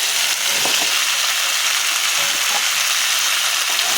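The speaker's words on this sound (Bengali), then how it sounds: "সজনে ডাঁটা দিয়ে এবার আমি আবারও ভালো করে নাড়াচাড়া করে নেব।" Drumstick pieces (moringa) fry in a pan with pumpkin and potato, giving a steady close hiss of sizzling oil with a few soft scrapes of stirring throughout, no voices.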